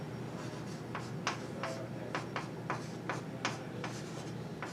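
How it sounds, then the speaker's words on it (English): Pen or marker writing out a fraction with a division sign, giving a series of short, soft scratchy strokes in an uneven rhythm against a steady quiet background hum. "we could write that out with a division sign"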